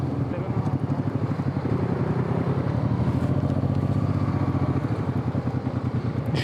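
A motorcycle rides along country roads with a steady, droning engine note and constant wind buffeting, recorded close from the rider's position and loud throughout.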